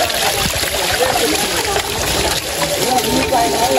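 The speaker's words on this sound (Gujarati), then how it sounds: "પાણી પડતું છે." Water falls beside old stone steps on the Brahmagiri trek path in Maharashtra, a steady, close broadband rush and splatter that runs the whole time with faint voices in the background.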